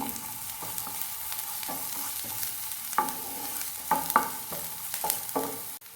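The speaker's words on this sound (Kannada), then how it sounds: "ಸ್ವಲ್ಪ ಈರುಳ್ಳಿ ಹಾಕಿ ಫ್ರೈ ಮಾಡ್ಕೊಳ್ಳಿ. ಚೆನ್ನಾಗಿ ಫ್ರೈ ಆಗಬೇಕಿದು." Onions and green chilies frying in a pan for potli samosa filling, a soft steady sizzle with irregular spoon scrapes and taps against the pan, close up and without voices.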